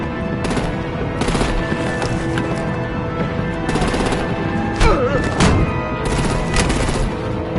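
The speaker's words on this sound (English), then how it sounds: "Break out the artillery and disable their vehicles!" Rapid bursts of gunfire crackle through a battle in Batman: The Enemy Within, with dense overlapping shots and thuds rolling continuously at close range.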